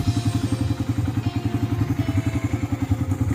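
The carbureted engine of a 2022 Suzuki Raider 150 motorcycle runs close by, idling with a steady, rapid low chug and a faint tappety clatter throughout.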